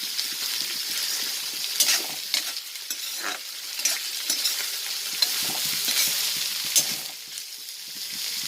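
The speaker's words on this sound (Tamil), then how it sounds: "நெத்திலி ட்ரை ஃபிஷ் ஃப்ரை." Anchovy dry fish frying in a pan with coconut oil, a steady close sizzle and crackle throughout with a few light stirring scrapes, no voices.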